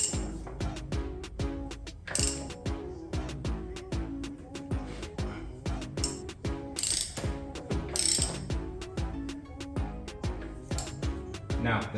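Ratchet wrench clicking in quick repeated bursts while tightening a VVTi cam gear bolt on a Toyota Supra engine, close and crisp with short pauses between strokes.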